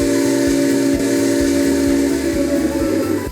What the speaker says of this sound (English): The whistle audio is a Southern Pacific 6 chime.